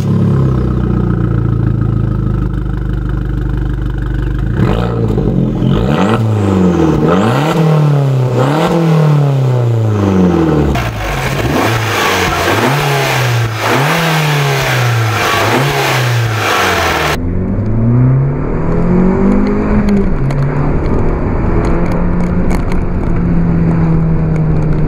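An Abarth 595 Competizione with a 1.4-litre 180-horsepower engine revs loudly and repeatedly, rising and falling through the gears in close, sustained bursts before settling into a steadier drone.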